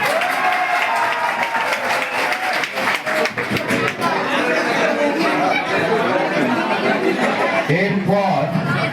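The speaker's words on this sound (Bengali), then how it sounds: "হাততালি কই?" An audience at a convocation ceremony applauds with scattered, uneven clapping over loud crowd chatter and voices throughout, continuous for the whole stretch.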